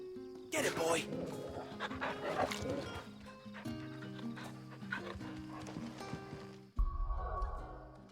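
A dog panting in the video game Final Fantasy XVI, quick rhythmic breaths close by, layered over game music and other sounds, with a heavier thud near the end.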